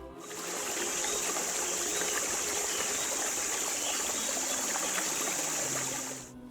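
River water flows in a Brazilian forest with a steady, soft rushing wash that fades in and out and stays unbroken throughout.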